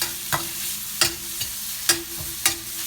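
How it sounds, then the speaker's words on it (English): Garlic and shallots sautéing with cold oyster mushrooms in a pan: a low steady sizzle broken by five or six distinct scraping stirs at irregular intervals, close and alone without speech. "We want to slow down their cooking and toss them with our cold mushrooms."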